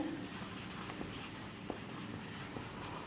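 Scratchy, intermittent strokes of writing on a board during a grammar lesson on complements, close and fairly quiet, with soft taps, no talking and steady room hiss underneath.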